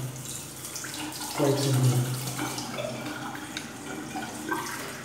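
Tap water running steadily for a face rinse after a Gillette razor shave, close and continuous, with a person briefly speaking over it.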